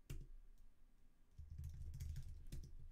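Soft clicks of typing on a computer keyboard while entering a password for a Raspberry Pi, a few scattered taps followed by a quicker, denser run of keystrokes, quiet and close with no talk.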